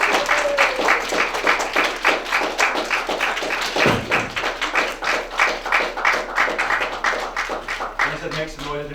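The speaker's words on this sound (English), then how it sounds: "you may applaud." Wedding guests at Matt and Stacey's ceremony clap together for the newly married couple, a loud, fast, dense round of applause with thumps and bits of chatter mixed in, a short dip near the middle before it carries on strongly.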